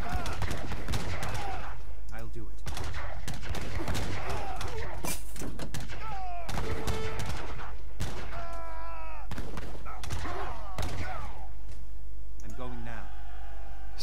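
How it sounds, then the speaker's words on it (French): Naval cannon fire in Age of Empires III as English ships attack from the flanks: repeated sharp shots and booms in irregular bursts, with clicks and clattering impacts, heard under speech. "Les navires anglais nous attaquent par les flancs. Utilisez les canons pour couler les navires."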